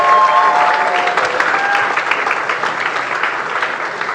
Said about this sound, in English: Please keep the applause going for our speakers.